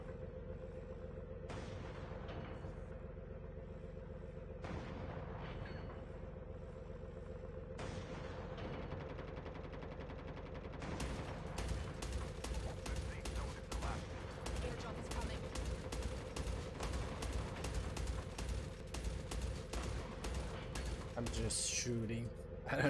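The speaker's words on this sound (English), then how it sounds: "How the heck do you shoot zombies?" Rapid gunfire in Call of Duty Mobile as a player shoots zombies, with bursts that turn into dense continuous shooting in the second half. The shots are loud and close, and a voice talks faintly at times.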